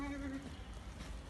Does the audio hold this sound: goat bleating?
yes